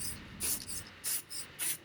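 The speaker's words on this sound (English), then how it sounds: "just spray some clear lacquer over the metalwork so they don't start rusting again" Clear lacquer sprayed from a can over rusted metal hinges on a wooden projector box: three short hissing bursts, close and loud, separated by brief pauses.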